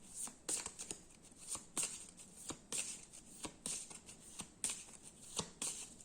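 Cards are handled and laid down during a tarot-style reading, giving a string of soft, crisp slaps and flicks at an irregular rhythm, close and quiet with no voices.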